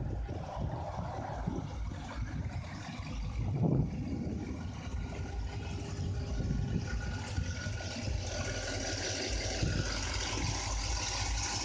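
The Vortec engine in a 1972 Chevrolet Caprice idles with a low, steady rumble heard from a modest distance, a few soft knocks and clunks over a constant broadband background.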